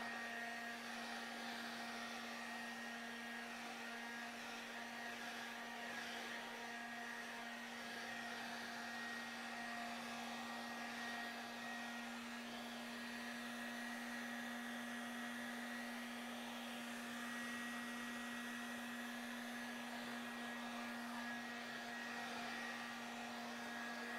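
A hair dryer runs steadily and close, drying gesso on an art journal page, a constant whirring hum with no pauses for the full stretch and no talking.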